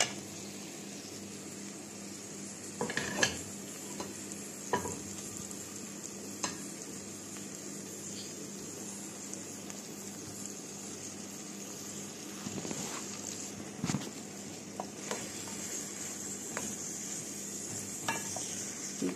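Onion goes into melted butter and fries with a low, steady sizzle, broken by scattered clinks and scrapes from a utensil against the pan. Nobody talks.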